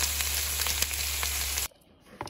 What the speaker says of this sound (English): I've just got some mushrooms, butter and garlic on the barbie and bacon